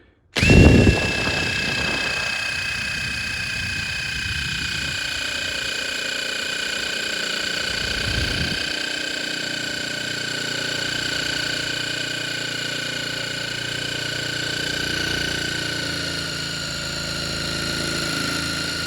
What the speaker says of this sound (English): I've got a buffing wheel here. So I'll try this just on the backbone because that's hidden under the tank